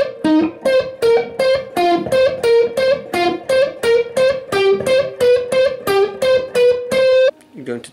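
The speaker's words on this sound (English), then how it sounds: "Then you're going to play a tapped part." Electric guitar with distortion plays a fast tapped passage from Vivaldi's Summer Presto, a steady run of bright, sustained notes in quick even rhythm, close and loud, ending with a brief lower phrase.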